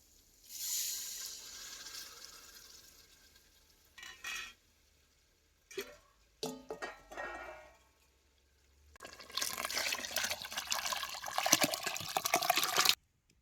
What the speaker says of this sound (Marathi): आता हे सौद्याचं पाणी जरा घालतो आणि मग साडी पाणी घालायचं